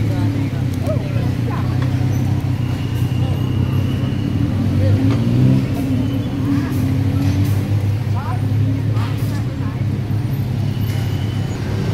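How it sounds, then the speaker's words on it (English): Heavy peak-hour traffic rumbles through Bangkok's Chinatown street in 2020, a dense, continuous low drone of engines and buses with occasional horn-like tones, heard close by while people talk over it. "The traffic is becoming humongous."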